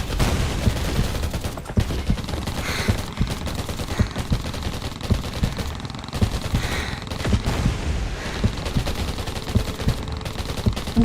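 Rapid bursts of automatic gunfire from the survival shooter game Undawn, dense, loud and nearly continuous, with overlapping shots and brief pauses between volleys.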